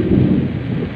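Loud thunder rumbling during a storm with rain, a deep heavy roll that stays strong throughout and sounds close, with no talking over it.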